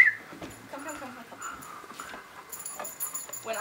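A dog whimpers in thin, high, wavering whines while held on a table during veterinary restraint practice, with quiet bumps and shuffling around it.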